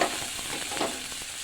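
Garlic paste and tomato frying in oil in a pan, a short burst of steady crackling sizzle at moderate volume with no voices.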